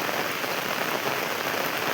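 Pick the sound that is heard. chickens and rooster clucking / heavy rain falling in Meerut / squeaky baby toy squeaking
heavy rain falling in Meerut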